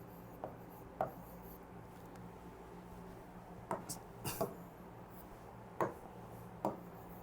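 Chalk or marker writing on a board in a classroom, a few faint, scattered taps and short scratchy strokes against a quiet room background.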